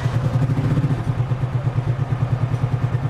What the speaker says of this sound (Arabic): تبارك الله موتور نقي